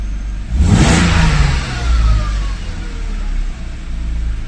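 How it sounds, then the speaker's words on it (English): A cold BMW E36 323i Touring with an M52 engine, upgraded with M54B30 camshafts, revs sharply once, then settles and rises again in a second rev. A deep, close rumble sustains underneath. "It revs, good."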